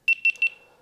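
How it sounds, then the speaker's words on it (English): GoPro Hero13 camera beeping as it powers on: three quick, bright, high-pitched electronic beeps in a steady rhythm, close and clear, then fading into silence. "It beeps."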